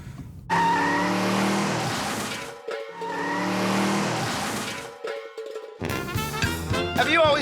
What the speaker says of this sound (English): Canada's worst drivers ever take our limousine on a high-speed slalom run